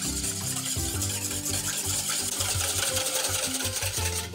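Whisk beating milk and two eggs together for a chicken, goat cheese and leek tart, a steady rapid rubbing and clinking rhythm that carries on throughout at close range.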